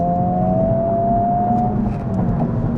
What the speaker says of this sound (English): That was a third gear pull to what, 75?